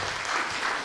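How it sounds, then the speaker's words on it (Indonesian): Audience applause at a public dialogue forum on handling street brawls in East Jakarta: a short, dense burst of clapping from a crowd in a hall, loud and even. "Berikan tepuk tangan"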